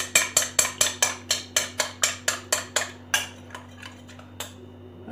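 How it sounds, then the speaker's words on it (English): Utensil clicks rhythmically against a bowl while under-eye cream ingredients are mixed, about a dozen quick, evenly spaced taps close up, then slower scattered scrapes and clinks over a steady low hum. "Mix everything very well. Mix it properly so that it will, you know, mix very, very well and form"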